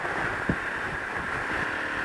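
Strong wind roars and buffets against a motorcycle rider on a main coastal highway in Tasmania, a loud, constant rush of noise with a brief thump near the start.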